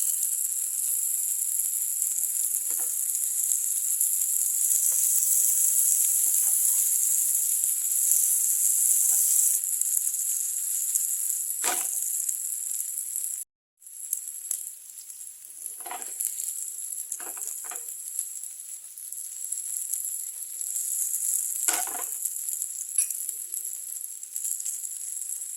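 Bitter gourd frying in a pan gives a steady bright sizzle throughout, with scattered soft pops and crackles, a brief gap, and no talk.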